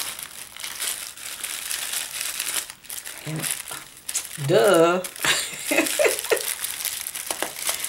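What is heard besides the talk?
paper wrapping being removed and crumpled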